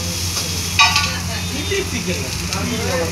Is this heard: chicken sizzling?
yes